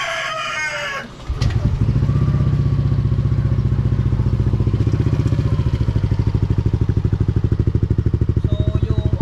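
A rooster crows briefly before a Yamaha Nmax v2 scooter with a stock CVT engine and a Sun Racing exhaust pipe fires up and runs close by, a loud, steady pulsing exhaust rumble that continues to the end.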